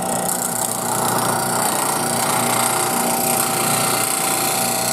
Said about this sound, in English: Grinder's up to speed.